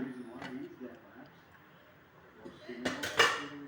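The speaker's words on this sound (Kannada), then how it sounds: "ಈಗ ನೋಡಿ, ಕುಕ್ಕರ್ ಲಿಡ್ಡನ್ನು ಕ್ಲೋಸ್ ಮಾಡ್ತಾಯಿದ್ದೀನಿ." A metal pressure cooker lid is set on and closed in a home kitchen while paneer is being cooked. A clank sounds near the start and a louder metallic clatter comes near the end, with a person talking in between.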